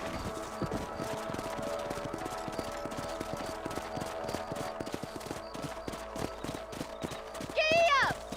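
Horse hooves clop in a fast, steady galloping rhythm in Red Dead Redemption on PS5, close and continuous throughout, with a horse's whinny rising near the end.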